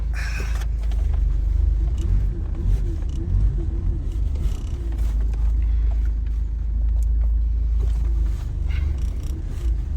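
A manual Toyota Land Cruiser 105 Series is driving in Kenya with a steady low engine rumble and road noise heard from inside the cabin, joined by faint rattles and bumps, and nobody speaks.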